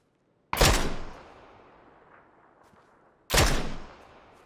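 Two loud, sharp PUBG sniper shots about three seconds apart, each cracking suddenly out of near silence and trailing off in a long echoing decay.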